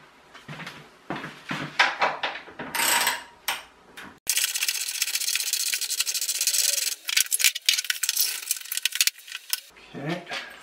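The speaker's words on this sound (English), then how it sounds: "Need a spanner to undo those bolts." A spanner works on washing machine bolts, with metallic clinks, scrapes and rattles in uneven bursts, then a longer stretch of steady rubbing and grinding before a few final clanks, close by.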